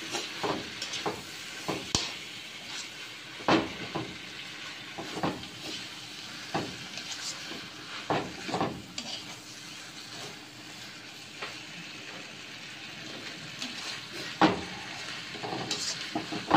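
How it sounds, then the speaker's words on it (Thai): Squid stir-fried with salted egg, chili and spring onion in a pan: continuous loud sizzling with frequent scraping and clanking of a spatula stirring against the pan, close up. "พริกลงนะคะตักให้เข้ากันนะคะ"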